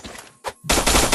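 Gunfire in the Free Fire video game: a couple of short isolated shots followed by a loud, dense burst of rapid automatic fire that continues to the end.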